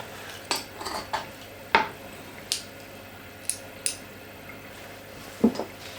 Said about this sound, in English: So I just want to mincify the garlic.